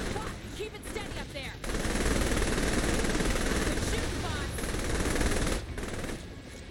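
Rapid automatic gunfire in the video game Saints Row The Third, a dense continuous burst of shots lasting several seconds, loud and close, with a voice talking over it.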